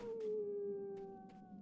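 Guard dogs in the video game Metal Gear Solid: The Twin Snakes give a faint, drawn-out howl that slowly falls in pitch, with a few brief bursts of noise behind it.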